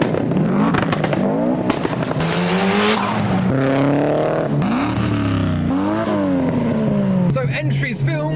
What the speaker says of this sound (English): we're accelerating harshly into Santa Pod